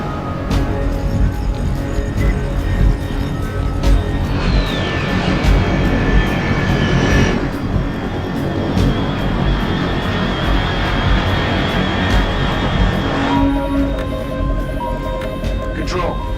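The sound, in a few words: aircraft flying in the video game Metal Gear Solid Delta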